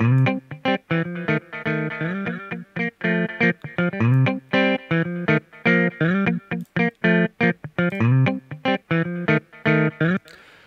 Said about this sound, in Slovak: To je taký ten viditeľný priznaný delay.